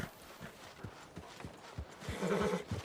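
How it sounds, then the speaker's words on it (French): Horse in a video game, hooves clip-clopping in a slow uneven walk, faint and a little distant, followed by a short snort or whinny near the end. "Attention le cheval est très nerveux."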